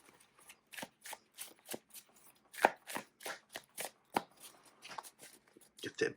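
Yu-Gi-Oh trading cards are shuffled by hand in a quick series of crisp riffling snaps and soft slaps, close and clear, with short gaps between bursts.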